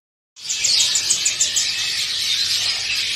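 A small songbird, a kacer (magpie robin), chirps rapidly and continuously up close in a cage at a bird kiosk, a bright, high twittering that carries on without pause.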